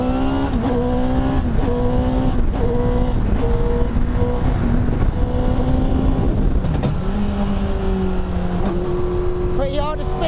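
A Honda CBR1000RR motorcycle engine screaming at around 10,000 RPM on a test ride, loud and continuous with rising and falling pitch as gears change, heard close with wind rush.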